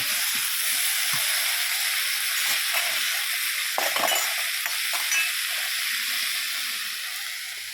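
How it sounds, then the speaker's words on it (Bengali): Mixed vegetables with salt hiss and sizzle in a frying pan while a spatula stirs them, producing occasional scraping taps; the steady frying noise tapers off slightly at the end. "লবণটা দিয়ে খুব সুন্দর করে আরও কিছুক্ষণ নাড়িয়ে চাড়িয়ে নিলাম"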